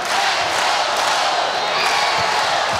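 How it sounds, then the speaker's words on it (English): A volleyball arena crowd rumbles in a dense, steady roar of many voices, restless murmuring and scattered shouts filling the hall at close range without a break. "And the crowd getting antsy."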